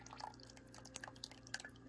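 Oil dripping and lightly splashing as a jar of arnica herbal infusion is strained, a scatter of small, quiet, irregular drips over a faint background hum.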